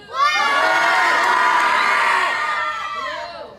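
A crowd of children screams and cheers together at a Christmas gathering, a loud sustained shout rising sharply and holding for about three seconds before tapering off.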